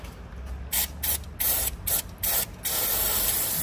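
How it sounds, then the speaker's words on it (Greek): Aerosol cleaner sprayed onto the turbo of a Nissan Skyline RB25 engine in about six sharp, loud hissing bursts, close up, followed by a steady longer hiss. "τα θροκαθαρίσω με σπρέι"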